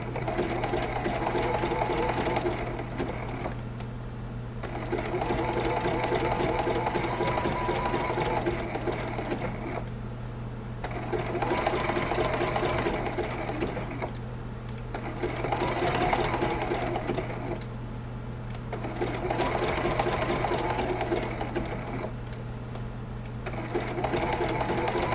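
Sewing machine running a zigzag stitch on a teddy bear applique, fast whirring stitching in repeated bursts of several seconds separated by short pauses, over a steady low hum.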